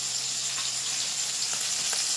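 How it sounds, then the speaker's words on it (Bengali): Fish pieces shallow-frying in hot oil, with a steady, dense sizzle that stays loud and even throughout, heard close with no talk. "এই মাছগুলো কিন্তু এই রান্নার জন্য একদম একটু লাল লাল করে ভাজতে হবে, একটু কড়া করে"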